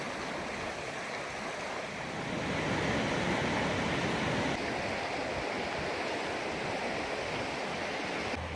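Boiling River near the hot springs by Gardiner runs in a steady, full rushing wash of flowing water, moderately close and unbroken, with no voices.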